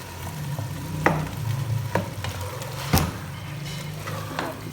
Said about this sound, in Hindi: इसको अच्छी तरह 2 से 3 मिनट हम मसाले के अंदर इसकी भुनाई करेंगे